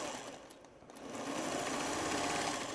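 Sewing machine stitching flange binding onto a quilt, a steady rapid mechanical whir that dips briefly and then builds to a continuous close hum, with no talk.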